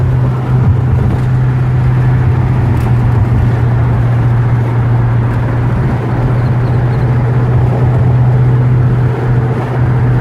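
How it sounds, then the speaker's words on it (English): A 1967 Camaro convertible with a 327 V8 and Powerglide automatic cruises along, its engine giving a steady, loud low drone that holds evenly throughout with road and wind noise and no talking. "we're cruising in a 1967 Camaro convertible with a 327 Power Glide"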